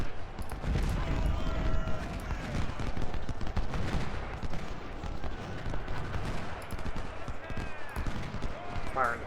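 Gunfire in the Civil War strategy game Ultimate General: Civil War, a continuous rattle of musket volleys and distant shots rolling through the whole stretch, with no talk over it.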